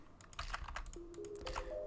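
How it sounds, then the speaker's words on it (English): Rapid clacking keystrokes on a loud computer keyboard, close and irregular, with a faint steady tone entering partway through. "Sorry for my loud keyboard"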